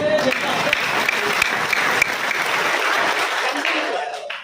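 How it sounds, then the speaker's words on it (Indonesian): A church audience breaks into applause, a full, steady burst of many hands clapping together that holds strong before tapering off abruptly at the close. "Tepuk tangan."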